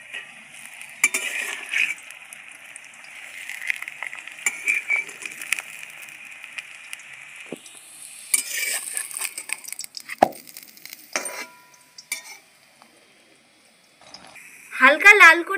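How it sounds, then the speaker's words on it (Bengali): Stuffed sattu parathas shallow-fry in a little oil, giving a steady, faint sizzle with occasional clinks of a utensil against the pan, followed by a brief louder burst of sizzling at the end. "এবার তেল দিয়ে ভেজে নেব পরোটাগুলো।"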